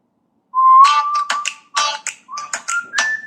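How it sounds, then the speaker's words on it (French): An electronic ringtone from an Ulefone Armor 15 smartphone plays a bright melody of short tones and clicky percussive hits, loud and close, starting after a brief silence. "sonnerie du téléphone, tiens, on va écouter."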